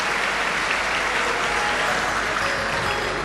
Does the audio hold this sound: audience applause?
yes